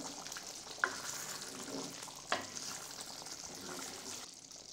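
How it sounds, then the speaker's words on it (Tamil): Quiet, steady bubbling and sizzling of a pot of pepper curry simmering, with a couple of soft clinks and no talking. "இப்போ மூடி போட்டு ஒரு 10 நிமிஷம் கொதிக்க விடலாம்"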